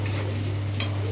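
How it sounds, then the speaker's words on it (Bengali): Onions frying in a wok over cumin, a continuous close sizzle with a brief stir, alone. "পেঁয়াজ ভাজা হচ্ছে"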